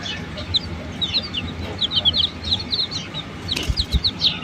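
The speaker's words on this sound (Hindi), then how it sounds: "अंदर से चूजे की आवाज़ आ रही है, शायद फंस गया है कोई चूजा अंदर।" Newly hatched chicks peep in rapid, high-pitched bursts, many overlapping chirps close by, with a few soft low thumps near the end and no talking.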